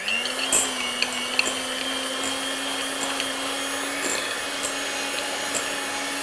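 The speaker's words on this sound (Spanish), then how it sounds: "Le damos un golpecito de batidora." An electric hand mixer whirs steadily while beating butter for chocolate fudge frosting, a constant motor whine with a few clicks and knocks of the beaters against the bowl.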